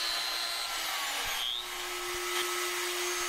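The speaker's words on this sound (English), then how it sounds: "So got that little DeWalt router out again with the 1/8 inch radius bit" A small DeWalt router fitted with a 1/8 inch radius bit rounds over wooden edges, giving a steady high whine with faint cutting texture, running alone without speech.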